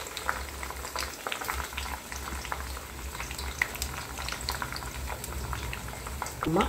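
Homemade hair oil bubbling in a pot on the stove, a soft continuous simmer of small popping bubbles with faint clicks, low and close.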